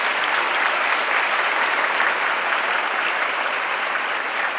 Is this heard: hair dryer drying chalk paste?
no